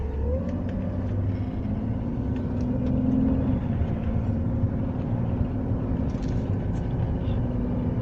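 Inside a Mercedes W140 with the M104 engine running on gas, a steady low engine drone and road rumble continue evenly while the car drives smoothly, with no talking.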